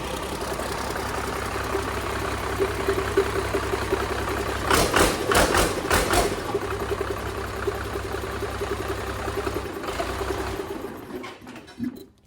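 A Cummins diesel engine with no electronics, running after being started: a steady, rhythmic, fast-ticking clatter close by, with a short burst of louder knocks partway through, then an even idle.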